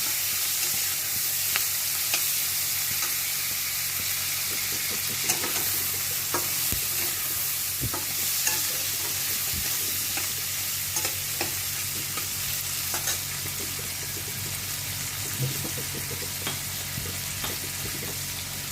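Prawns frying with onion in a hot pan for chilli prawns, a steady bright sizzle running throughout with irregular scraping clicks from stirring, close and fairly loud with no voices.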